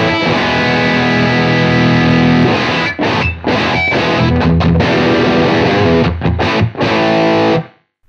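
Electric guitar played through a UAD Lion '68 vintage Marshall amp plugin at full volume, a loud, saturated distorted tone with sustained chords and a few brief gaps, alone with no talk.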